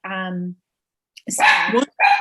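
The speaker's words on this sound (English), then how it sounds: "Sorry, that's my dog." A dog barks during an online committee meeting, a few sharp close barks following a short stretch of speech, then a pause before another bark.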